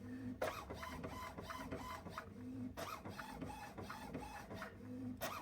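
An HP 6520 inkjet printer runs its alignment routine after a print head cleaning, with a steady mechanical whir and repeated rhythmic carriage passes and clicks, close and moderately loud, with no speech.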